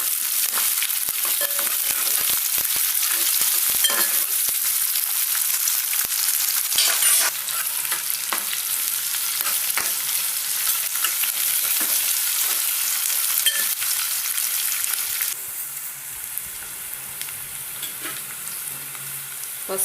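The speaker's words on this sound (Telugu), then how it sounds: "ఉల్లిగడ్డ వేసాక కొంచెం ఉప్పు వేసుకుంటే ఉల్లిగడ్డలు తొందరగా వేగుతాయండి." Sliced onions with a little salt fry in a pan, a steady bright sizzle with occasional scraping and stirring, close up and uninterrupted for about twenty seconds, easing slightly toward the end.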